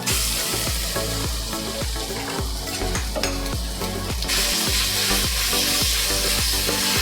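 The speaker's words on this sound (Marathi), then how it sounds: "आणि आता आला लसूण आपण पेस्ट घेतलेली ना ती टाकूया।" Garlic paste hitting hot oil in a pan alongside roasted green chillies for veg pulao, with a loud, continuous sizzle and crackle and regular stirring scrapes pulsing through it.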